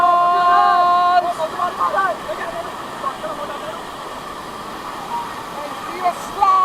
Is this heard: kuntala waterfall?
yes